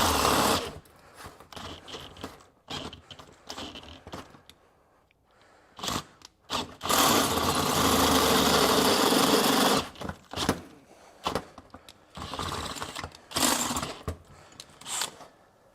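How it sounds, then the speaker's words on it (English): A power drill fitted with a step drill bit bores a hole. It runs in several bursts: short grinding spurts, then one long sustained cut of about four seconds, separated by pauses and quieter handling sounds. "whether you need to actually drill a hole or you just need to enlarge a hole"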